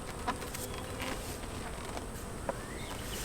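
Honeybees buzzing around a small nucleus hive outdoors, a sparse, steady hum of a modest number of bees with occasional nearer passes and faint patter.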